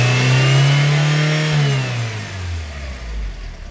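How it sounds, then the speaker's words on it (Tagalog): A small-body Toyota Corolla engine is revved up hard, holding a loud steady high rev before the pitch drops back toward idle, close up with no talking. "Lalaksan natin yung rep."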